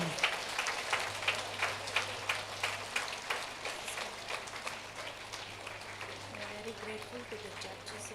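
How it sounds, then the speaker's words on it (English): Children applauding at a school event at St. Joseph of Cluny, Pondicherry, steady rhythmic clapping from a crowd, moderately distant, with a low steady hum underneath and a voice speaking faintly over it near the end. "Children, put up your hands and give a good round of applause to both of them."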